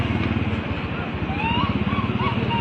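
Motorcycle engine running nearby with a steady low throttling rumble throughout, mixed with background chatter and babble.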